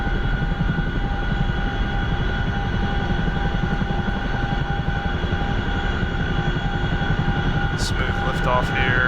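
A CH-47 Chinook helicopter in the DCS flight simulator lifting off, its steady rotor and turbine drone loud and constant throughout, with a few faint electronic beeps near the end.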